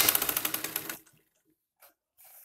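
A sewing machine rattles in a fast, rhythmic run of stitches for about a second as a chinese collar is sewn onto buckram, then stops, followed by a few faint handling noises.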